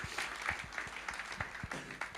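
A church congregation claps together during a worship service, a dense, steady patter of many hands with a few louder claps standing out, close and continuous through the moment.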